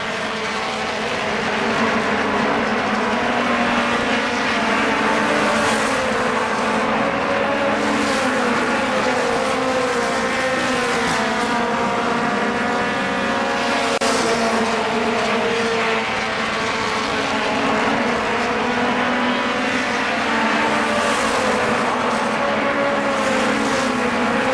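Race cars circling a small speedway oval at a July 4th championship, engines roaring loudly and continuously with rising and falling pitch as the field laps past.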